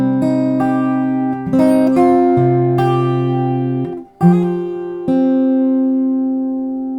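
A guitar plays a riff on the fifth and second strings, clear sustained notes with hammer-ons and pull-offs changing pitch, played alone and up close.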